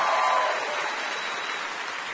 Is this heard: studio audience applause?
yes